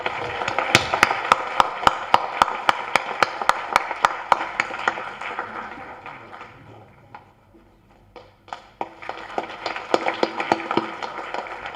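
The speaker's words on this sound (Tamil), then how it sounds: "ஒரு பெரிய கைத்தட்டு கொடுத்துருக்கேன்ல." Audience applause at the audio launch of the film Ram Abdullah Antony: sharp, evenly spaced claps in a quick rhythm that fade out briefly midway, then pick back up.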